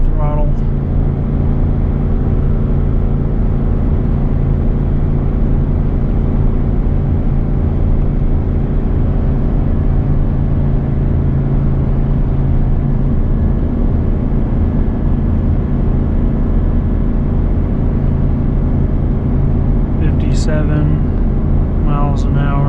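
A 24-year-old 8.1-litre gas V8 drones steadily at 70% throttle while towing 18,000 pounds uphill, a deep sustained engine rumble with road noise that persists throughout; brief speech comes in near the end.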